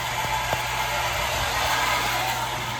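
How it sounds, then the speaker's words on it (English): A water pump motor drones steadily and close by while it recharges a lakeside pressure tank whose bladder has lost its air, a continuous mechanical hum with no voices. "So I'm going to charge the pump back up"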